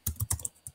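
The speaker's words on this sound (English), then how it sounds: "type in the username you set before" Quick bursts of keystrokes on a Chromebook keyboard as a username is typed, about half a dozen close, crisp taps in an uneven rhythm with short pauses between them.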